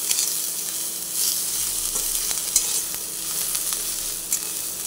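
A chop filling of rice with chopped coriander leaves is stirred and fried in a pan, with loud continuous hissing sizzle and occasional light scrapes of the spoon, close and alone.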